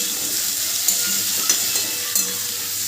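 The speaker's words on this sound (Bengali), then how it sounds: "কাঁঠালটা দিয়ে খুব ভালো করে পেঁয়াজের সাথে মিশিয়ে নেব, আর একটু ভেজে নিতে হবে কাঁঠালটা" Jackfruit pieces frying with onions in a pan give a steady close hiss with a few light scraping stirs, no voices.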